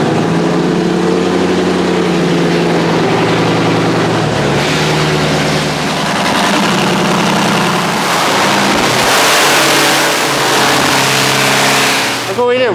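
Hellcat-swapped Dodge Viper engine roaring loudly and continuously on a dyno indoors, a dense sustained rumble that climbs and surges in pitch, with a sharp burst near the end and speech faintly underneath.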